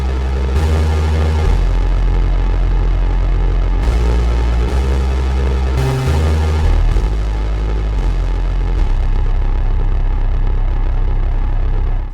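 A tonal bass synth preset from Soundpaint Hybrid Tools Evolutions plays loud, droning low notes that shift pitch in steps, thick with noise and distortion, ending in a rapid pulsing throb.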